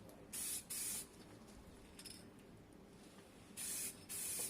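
A spray gun lays a light tack coat of paint on a Kawasaki ER5 cafe racer motorcycle part in four short hissing bursts, two near the start and two at the end, with quiet pauses between.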